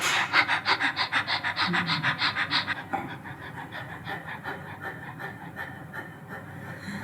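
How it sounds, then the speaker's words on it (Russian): Shallow, quick panting breaths demonstrated as a labour breathing technique, a fast regular rhythm of about a dozen breaths over three seconds, then softer, quieter breathing continuing close to the microphone, with no talk. "Самый такой распространенный вариант называется дыхание собачкой"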